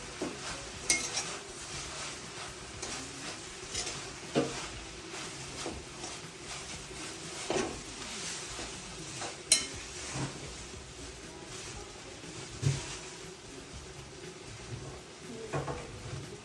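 Chicken curry masala stirred in a pan with a spoon, producing soft scraping and occasional clinks of metal against the pan over a faint sizzle, repeating at an irregular pace.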